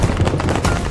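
Dense, loud battle gunfire from Revolutionary War cannon and muskets in the town streets during the attack on the Hessian garrison, a continuous roar of overlapping blasts with no gaps.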